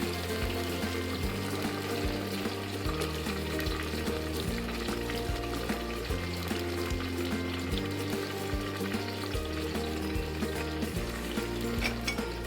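Ginger-garlic paste and tomato hitting browned onion in a pan for chicken biryani, giving a steady frying sizzle with stirring that runs the whole time beneath prominent background music.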